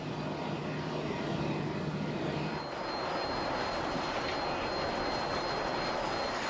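Boeing 747 in flight during a flight load survey with extreme pitch maneuvers, heard as a steady broadband engine and airflow roar from inside the aircraft, a low hum fading after a few seconds.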